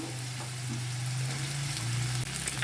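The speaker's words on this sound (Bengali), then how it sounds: "দিয়ে দিলাম কড়াতে একটু ভাজা ভাজা হয়ে গেছে বেগুনগুলো দিয়ে দেবো" Eggplant pieces sizzle in an iron wok with a steady, close frying hiss and a low hum beneath, with no voices over the short stretch.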